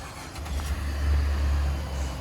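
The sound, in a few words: 2017 GMC Terrain Denali 3.6 liter V6 engine starting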